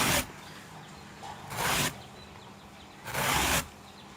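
A knife slicing through a fleshy banana stem to make duck feed, three separate crisp slicing strokes with quiet pauses between, close and fairly soft.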